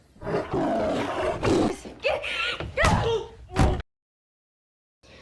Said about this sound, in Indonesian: seekor harimau mengancam keselamatan mereka hingga mereka pun berlari